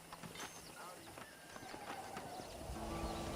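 A horse in Red Dead Redemption gives a whinny and clip-clopping hooves, fairly close and moderately loud, with game ambience behind and a voice talking over the sounds.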